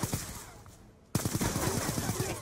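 Automatic gunfire in Black Ops 2 on Nuketown: a short quieter burst, a pause, then a louder rapid stream of shots rattling close and continuous.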